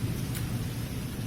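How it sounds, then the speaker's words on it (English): Steady broadband hiss of rain falling during a September afternoon in Lahore, continuous and fairly loud, with no voices. "It's raining."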